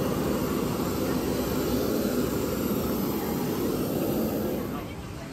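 A steady airliner engine roar fills the cabin from inside the plane, broadband and constant before easing slightly at the end; no clear talk stands out.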